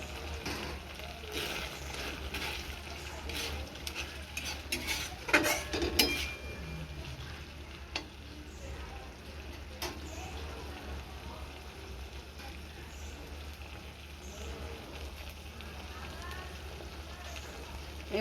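Spice masala frying with chopped tomatoes in a pan for okra masala curry: a soft, steady sizzle with a few clinks of a spoon against the pan early on, while someone talks.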